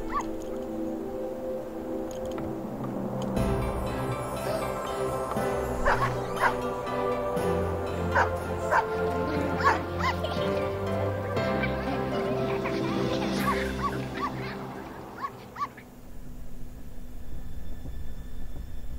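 Dogs bark and yip in a video game, a series of sharp repeated barks with some whimpering over a steady musical background, fairly loud throughout before fading near the end.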